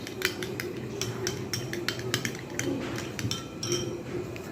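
A spoon stirs food colour into yogurt in a bowl for mutton biryani, clinking against the sides in quick, irregular close taps over a soft, steady background.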